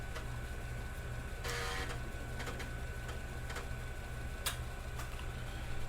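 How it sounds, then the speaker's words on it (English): An 8-inch 330K floppy drive on an Altair 8800 accesses in the background, producing faint irregular ticks and short clicking bursts over a steady low hum of machinery. "You should be able to hear the floppy drive back there accessing away. That's an 8-inch 330K floppy drive."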